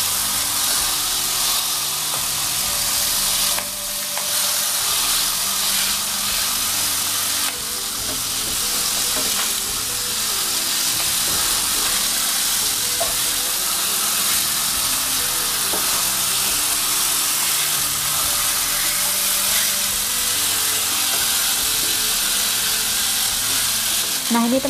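Fish frying in a pan over medium heat, a steady dense sizzle and hiss running unbroken throughout with occasional faint clinks of stirring or turning.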